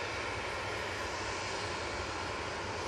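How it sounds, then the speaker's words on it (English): Boeing 737 MAX 8 jet airliner lined up at Manchester Airport, a continuous broad engine roar heard from a distance, steady and even with no voices. "the 737 MAX 8 are now lined up, ready to go"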